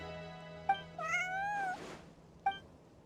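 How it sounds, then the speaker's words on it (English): Bonnie the cat in Genshin Impact gives a drawn-out, rising meow framed by two short chirping mews, close and clear over quiet background hiss. "She flicks her tail and meows loudly"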